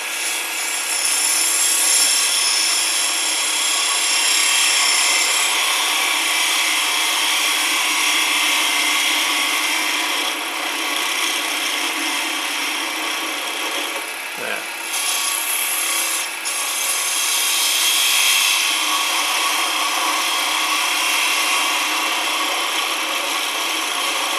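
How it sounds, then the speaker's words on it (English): A blunt little scraper cuts acrylic spinning on a lathe, producing a continuous bright hissing scrape that stays loud and even, with a short dip midway before resuming. "This is a very blunt sort of tool, just a little scraper."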